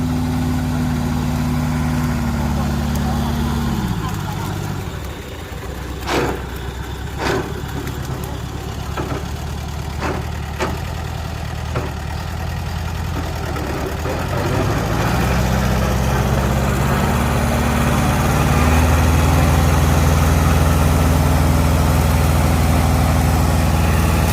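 Used Kubota-type 16-horsepower two-cylinder tractor engine idling, a loud steady low throb close by that dips briefly mid-clip while a few faint clicks sound, then returns and rises slightly, with no talk.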